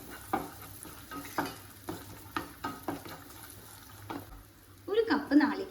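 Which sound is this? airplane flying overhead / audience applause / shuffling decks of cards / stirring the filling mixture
stirring the filling mixture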